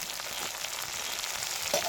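Onion fries in a pan as chopped tomato is added, giving a continuous, fairly even sizzle close by and a short spatter near the end, with no voices.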